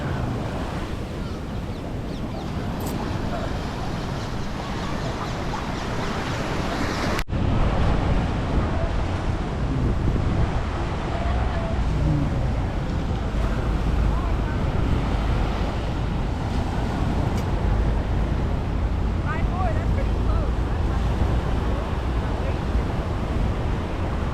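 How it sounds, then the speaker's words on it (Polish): Waves and wind at Waikiki Beach on Oahu form a continuous loud rumble of surf with gusty wind buffeting the microphone, steady and unbroken. "Słynna plaża Waikiki Beach."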